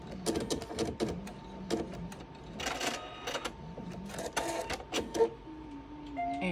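Husqvarna Viking Sapphire 85 embroidery machine finishing its stitching and trimming the thread itself, a run of close mechanical clicks and clatters with brief whirring bursts, ending in a few short electronic beeps.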